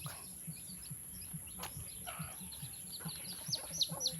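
Chickens cluck and chirp softly in the background at a rural home in the Philippine countryside, scattered short calls over a steady high electrical whine and faint outdoor noise.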